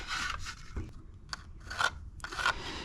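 A board being cut into a wooden door brace for a chicken tractor, with short separate bursts of rasping, scissor-like cutting strokes, close and fairly quiet, with no one talking.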